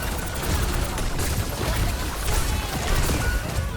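Dense Overwatch gunfire and ability effects during a team fight, a constant, busy clatter of shots and impacts, loud and crowded throughout.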